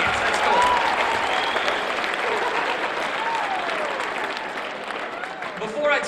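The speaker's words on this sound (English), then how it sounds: "Give yourselves a round of applause then for being a good audience." An audience at a talk for teenagers gives steady, lively applause for several seconds, with some voices and whoops mixed in near the end.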